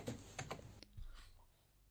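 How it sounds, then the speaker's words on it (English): A handful of sharp computer keyboard key presses, close and distinct, tapped in a quick uneven run, then fading into quiet room noise. "This waveform is the sound produced by a single key."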